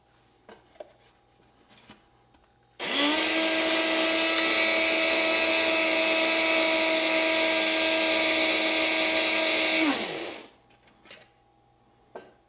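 An electric grinder starts abruptly, runs with a loud steady high whine for about seven seconds, then winds down, with faint clicks and knocks before and after.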